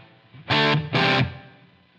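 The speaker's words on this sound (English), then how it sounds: "I'll just go and add like a legacy room reverb" An electric guitar through a Line 6 Helix with a legacy room reverb plays two loud sustained chords, each stopping abruptly, with a short roomy tail trailing off afterward and no talking.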